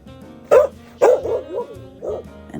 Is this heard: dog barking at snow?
yes